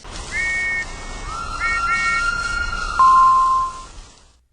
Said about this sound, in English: Lily heard the sound of a train whistle outside her window